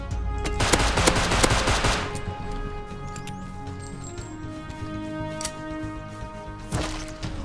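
A heavy exchange of AK rifle gunfire in the survival game Rust, with dense rapid shots at the start, then scattered distant single cracks and a final sharp burst.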